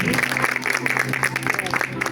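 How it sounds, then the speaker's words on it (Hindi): A church congregation claps loudly and steadily, a thick wash of hands running under a sustained voice or tone throughout the brief moment. "खुदा के कलाम के लिए एक बार फिर जोर से तालियां"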